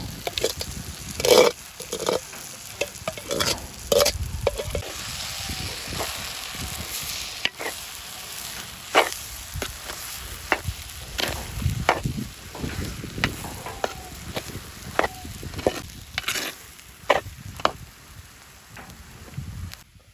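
Mashed potatoes get stirred and scraped in a pan during Jaffna-style village cooking for potato patties, with soft sizzling and irregular spoon knocks close by over a windy outdoor background, no talking.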